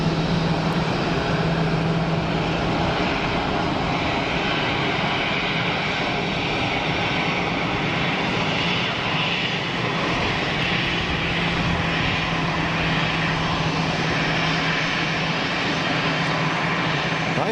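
A small propeller aircraft at Geneva Airport, a steady, loud engine drone that holds evenly throughout with no voices over it.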